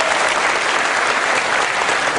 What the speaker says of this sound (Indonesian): tepuk tangan untuk Mas Danang